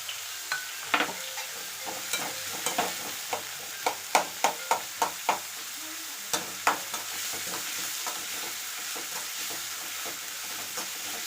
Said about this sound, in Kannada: ಉಳ್ಳಾಗಡ್ಡಿ ಸ್ವಲ್ಪ ಫ್ರೈ ಆಗಬೇಕು.